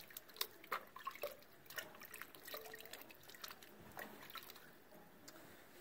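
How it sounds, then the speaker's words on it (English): Water splashes and trickles as hands are rinsed clean while making tumblers, with irregular drips and small splashes, close and moderately quiet. "Then I'll take my hands, get them as clean as I can, some water, wash them off"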